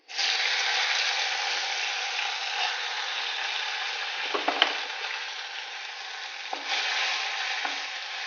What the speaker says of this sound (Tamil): இந்த தக்காளி கொஞ்சம் கரையிற வரைக்கும் நாம வதக்கணும்